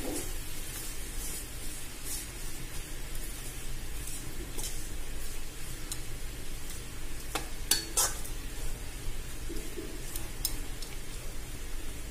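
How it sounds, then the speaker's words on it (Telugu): Mint leaves frying in a pan for chutney, a steady soft hiss of sizzling oil with occasional crisp spatula clicks and scrapes, close and fairly quiet, no talking. "ఒక 10 మినిట్స్ ఫ్రై చేసుకుందామండి."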